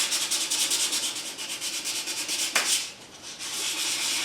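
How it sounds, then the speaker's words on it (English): A wooden planter coated in Stix primer is hand sanded with quick, rhythmic back-and-forth rasping strokes, close and steady, with a short pause near the end. "Take off the high spot with a nice sharp chisel, and then gently sand the area"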